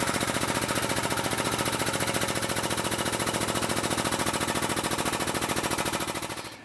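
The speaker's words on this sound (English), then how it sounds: "we're going to take the slug that we just cut off with a 3/4 inch hole, and we're just going to broach through it." A 3/4 inch broach driven through a freshly parted-off metal slug makes a loud, rapid, steady chatter of metal cutting that holds unbroken for several seconds before it winds down.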